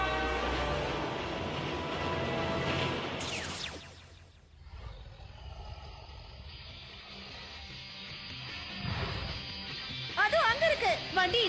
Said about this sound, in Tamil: ட்ரெயின் வருது, ஓடு.